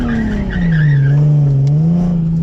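A Nissan 370Z doing a burnout around a cone, its tires letting out a loud, sustained squeal over the steady drone of the revving engine, close and continuous throughout.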